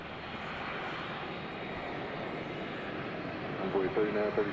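A UPS Boeing 767 cargo jet takes off at DFW Airport, a broad, steady engine roar held at a distance and swelling slightly near the end, with faint radio voices underneath.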